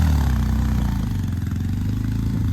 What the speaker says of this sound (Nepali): र अप्पर मुस्ताङको उसमा चाहिँ यहाँ बाइकले नतानेर हेर